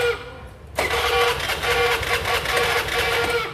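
A 2008 automatic scooter engine starts with a sudden burst and then runs steadily and smoothly at a close, even idle, with no talk over it.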